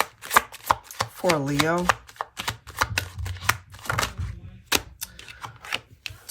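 Tarot cards are shuffled in quick, crisp riffles and taps that come in rhythmic bursts, close and loud, while someone talks over them.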